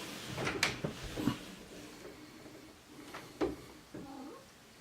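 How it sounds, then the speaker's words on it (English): A cat meows a few times nearby, short soft cries scattered over a few seconds amid light room noise and small clicks. "Yes, that's my cat."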